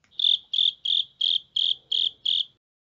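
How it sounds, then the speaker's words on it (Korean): A cricket chirps seven times in an even, rapid rhythm, each chirp a clear high trill, close and alone against silence. "오늘도 영어 청취 도우미 귀뚜라미가 함께합니다."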